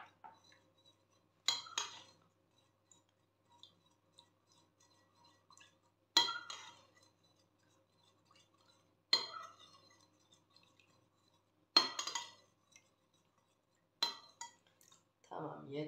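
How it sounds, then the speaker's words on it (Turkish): A spoon stirs water into molasses in a glass, giving sharp, isolated clinks at regular intervals against near silence, with a little faint liquid movement. "Üzerine 1 çay bardağı suyumu ilave ediyorum ve karıştırıyorum"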